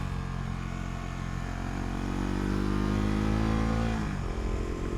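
On the Tail of the Dragon's tight curves, a nearby motorcycle engine climbs in revs with a rising, harmonic-rich whine, then drops off sharply before picking up again, loud and close with wind noise underneath.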